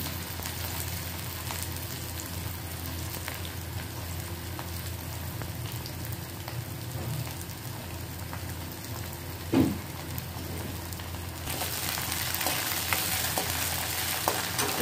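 Onions frying in a pan give a steady, moderate sizzle with a constant crackling hiss, a brief louder stir or clatter near the middle, and slightly brighter sizzling toward the end; no one talks.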